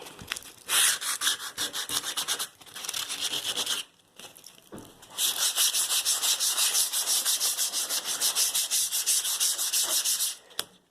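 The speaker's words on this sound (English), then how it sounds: "fill that in and sand it down" Wood being sanded down over filled cracks on a refurbished find, long loud rasping strokes in back-and-forth bursts, close up with a brief pause midway.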